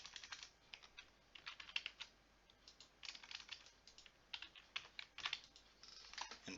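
Quiet, close typing on a computer keyboard while entering text into a restaurant ePOS system, irregular clusters of soft key clicks with brief pauses and no speech.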